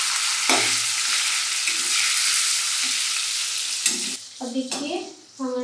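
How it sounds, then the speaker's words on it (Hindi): Sliced onions and cumin frying in tempering oil for jackfruit curry. A loud, continuous sizzle runs close, with occasional scraping stirs, then fades into a few clattering utensil knocks at the end. "अब देखिए हमारा प्याज भुन चुका है ना"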